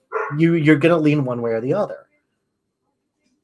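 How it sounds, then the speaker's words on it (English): A dog barks and yips in short bursts over a voice on a phone-in talk show, then the line goes quiet. "Sorry about the dog, by the way."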